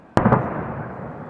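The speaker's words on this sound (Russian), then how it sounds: "Это прикинь, это салют такие взрывы." A single sharp firework salute bangs loudly, followed by a second quick crack and a rolling echo that fades over the next second, part of a May 9 Victory Day display in Kaluga.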